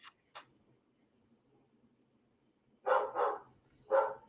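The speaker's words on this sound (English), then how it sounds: "there go my dogs again" Dogs bark in a few separate bursts, two faint yips early and then three louder, nearby barks, heard indoors against a quiet background.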